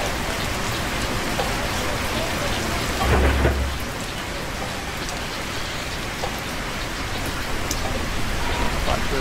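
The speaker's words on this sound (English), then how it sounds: "I've never had it rain so damn much in this game" Heavy rain pours steadily in the Plane Mechanic Simulator video game, a dense continuous hiss with a low rumble of thunder partway through.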